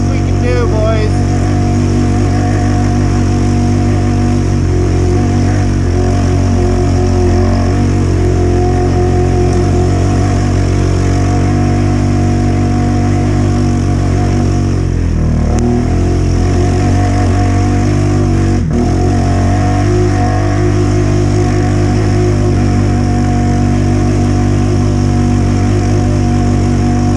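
A Honda Rubicon ATV engine drones loudly and steadily while driving through snow in third gear, holding a constant close rumble with only slight dips in pitch.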